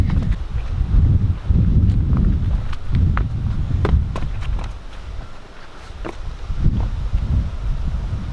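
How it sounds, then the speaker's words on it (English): Wind blows across a hiking trail on the Beehive Trail area of Acadia National Park, a low, steady rumble buffeting the microphone, with a few faint scuffs and clicks over it. "Dose of wind pushing me the opposite direction."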